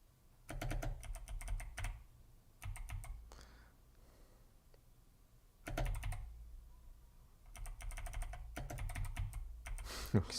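Key presses on a 1988 BBC Micro computer keyboard clatter in rapid clustered bursts, with quieter gaps between runs, close and fairly clear, and no talking.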